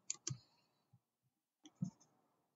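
A few sparse keystrokes on a computer keyboard, quiet close clicks in two small bursts separated by a silent gap.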